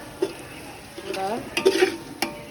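A spoon stirs spiced masala in a hot pan for a crab curry, giving soft scraping clinks and brief sizzling over a low background hiss, with a voice speaking faintly.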